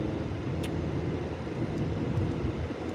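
A car driving to a coal mine gives a steady, low interior rumble of road and engine noise with no breaks throughout.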